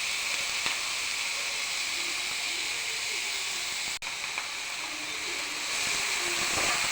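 Tomato and green chilli sautéing in a pan, a steady close hissing sizzle throughout with a brief clatter midway.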